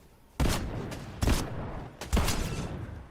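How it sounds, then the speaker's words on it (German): Gunfire in Fortnite, three separate bursts of shots, each a loud sharp attack followed by rattling decay, spaced roughly a second apart with no talk over them. "Ich werde beschossen. Von dort oben."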